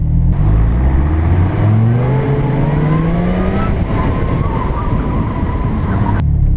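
A 2014 Dodge Viper GTS V10 engine revs hard, rising in pitch through the gears toward its 6,200 RPM redline, loud and close from inside the cabin with a brief shift dip before pulling again.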